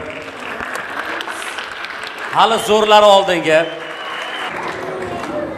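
Audience applause at a concert: a steady, dense clatter of clapping runs throughout, while a voice calls out loudly over it in the middle.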